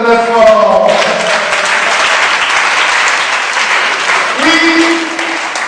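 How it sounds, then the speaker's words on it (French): A church congregation breaks into loud, sustained applause for Maman Jackie during a worship service, the dense clapping mixed with cheering voices and shouts throughout. "je demande d'acclamer très fort"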